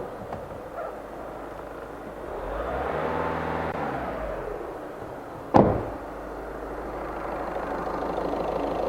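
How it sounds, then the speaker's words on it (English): A VW Caddy 1.6 TDI diesel with low fuel pressure idles, then is revved once, rising and falling over a few seconds, followed by a sharp knock and a return to a steady idle, close by. "Let's just give it a rev, see if we can see that pressure dropping."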